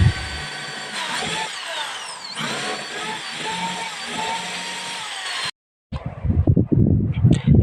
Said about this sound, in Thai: ขั้นตอนต่อไปเราก็เจาะน็อตยึดน็อตสกรูนะครับผมสองตัว